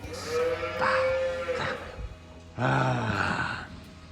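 Cattle on a farm where twin calves were born call out in several drawn-out, bleating moos, loud and close, with barn background noise between the calls.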